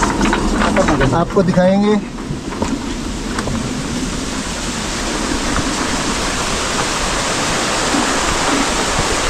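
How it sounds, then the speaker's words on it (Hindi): Traditional water-powered mill (gharat, ghat chakki) in a Himalayan hill village, running with a steady loud rush of flowing water and low rumbling churn throughout, with a person talking briefly over the first two seconds. "और देखिए इस प्रकार चलता है यहाँ का घट चक्की"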